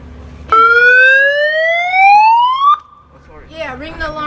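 Siren sound effect sweeping upward in a long rising wail that cuts off abruptly, followed by a brief warbling tail, loud and close with no talking over it.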